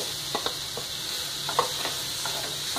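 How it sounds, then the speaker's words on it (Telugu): Ridge gourd pieces frying with onions in a pan, a soft steady sizzle with a few sharp clicks and scrapes of stirring, fairly quiet and close. "ఉల్లిపాయలు 2 నిమిషాలు వేయించుకున్న తర్వాత మనం సన్నగా తరిగి ఉంచుకున్న బీరకాయ ముక్కలు కూడా వేసుకొని"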